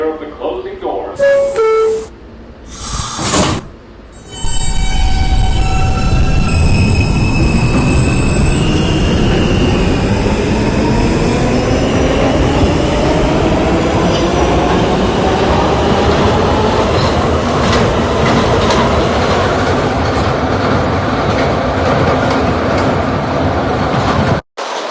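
An R160B D subway train starts with brief chimes and announcement tones, then accelerates and runs along the tracks with a loud, steady rumble, rising motor whine and wheel squeal.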